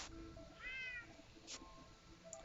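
A cat meows once in a rising, harmonic call around the middle, close and fairly quiet, with soft room noise and a couple of brief clicks around it.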